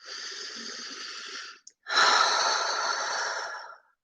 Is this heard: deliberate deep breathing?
yes